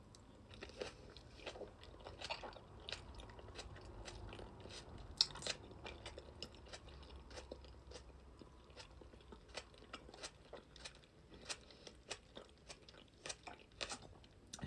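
Someone eats extra spicy Buldak noodles up close, with repeated crisp crunching bites and chewing at an uneven rhythm over about fifteen seconds and no talking.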